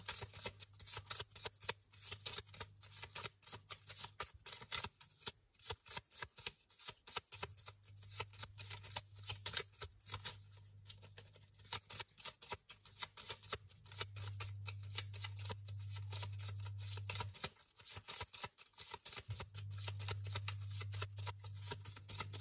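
Oracle cards shuffled and gathered back into a deck, a long run of close, crisp riffling and flicking with short pauses, under a steady low electrical hum and no talking.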